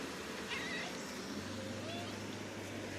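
A cat in a home vegetable garden gives a couple of short, faint meows early on, heard at a distance over a quiet, steady outdoor background hum.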